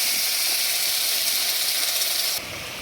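Onion paste hits hot oil left from frying tengra fish and gives a loud, steady hissing sizzle that drops suddenly to a softer hiss near the end.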